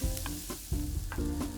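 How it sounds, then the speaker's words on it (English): Mirepoix of onions sauteing in rendered beef short rib fat, a dense close sizzle broken by a few rhythmic stirring scrapes, no voices. "We're gonna saute this down until the onions are nice and translucent."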